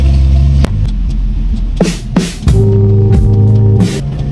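A vehicle on the road trip to Kalinan drives steadily with a loud, close engine drone, and its tone shifts as gears change and speed varies.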